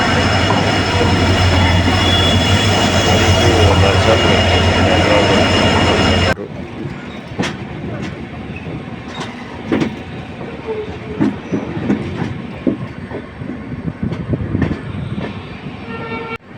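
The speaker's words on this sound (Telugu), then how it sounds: "మా ట్రైన్ వచ్చింది అమరావతి ఎక్స్ప్రెస్" The Amaravati Express passenger train pulls into a station near Gadag, a loud close rumbling roar of wheels and carriages that cuts off abruptly, followed by quieter scattered clanks, squeals and platform noise.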